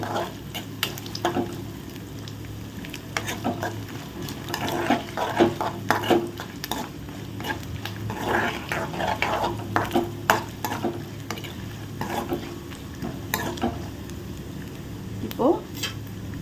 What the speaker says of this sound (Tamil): அதே நெய்யிலே நான் முந்திரி